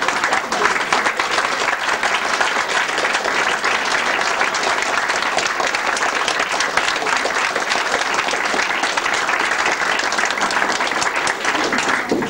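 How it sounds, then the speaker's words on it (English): An audience at a school staff honouring ceremony stands and claps for a long-serving retiring staff member, a dense, steady roar of applause that continues unbroken for over twelve seconds. "Could you all stand and clap the lady who's been here for 18 years?"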